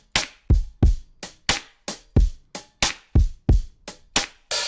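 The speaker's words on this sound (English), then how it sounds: "So here's the drum loop without the chops" An uncut drum loop sampled from a Russian jazz ensemble plays alone, about a dozen evenly spaced punchy hits with short decaying tails in a steady rhythm, close and clear with no talking.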